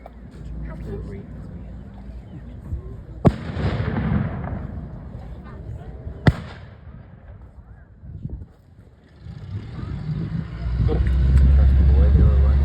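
At a battle reenactment, simulated bomb blasts go off as two sharp, loud bangs a few seconds apart, with the rumble of vehicles and a crowd talking throughout.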